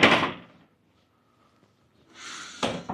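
The glass doors of an Infinite Balcony cabin on the Celebrity Beyond cruise ship slide shut. A brief rush at the start, then quiet, then a second sliding rush ends in a soft thud close by.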